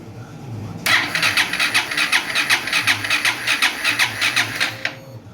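Honda Start 160 motorcycle engine, freshly rebuilt with the tank removed, cranks and fires up close by, settling into a loud, rapid rhythmic idle for about four seconds before cutting off.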